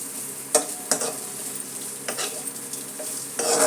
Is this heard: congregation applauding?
no